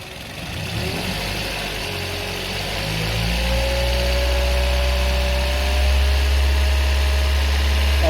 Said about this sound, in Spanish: vamos a incrementar las RPM a 2000 RPM en el motor